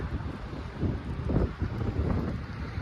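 Steady wind buffeting the microphone with a low rumble that gusts louder midway, continuous and close, with no voices.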